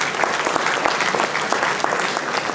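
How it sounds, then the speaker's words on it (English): An audience at an awards function claps in a dense, steady burst of applause, loud and close throughout. "I request to give them a big round of applause."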